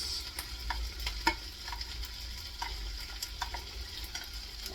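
Fried rice made with fresh rice stir-fried in a hot pan: a steady close sizzle runs throughout, broken by sharp, irregular scrapes and taps of a utensil stirring against the pan, with no voices.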